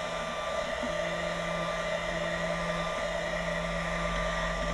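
A small USB vacuum cleaner sucks up metal filings from a key machine, giving a steady, close motor whine with an airy rush that holds at one level throughout, with no voices.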